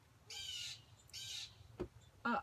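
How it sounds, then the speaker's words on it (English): Blue jay squawking outdoors near a suet feeder with doves around, three harsh raspy calls spaced apart, followed by a short lower call, heard clearly against a quiet background. "The blue jay is mad because the doves are out there trying to get to his suet beater."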